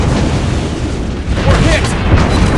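Shells hit a warship in the Warships Blitz naval battle game, producing loud, continuous booming impacts and rumbling blasts, with voice callouts mixed in.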